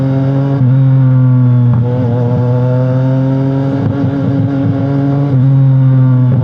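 A 675 cc sport motorcycle fitted with a full-system exhaust drones loud and close at low revs, with several brief throttle blips and shifts breaking a steady, buzzy engine tone.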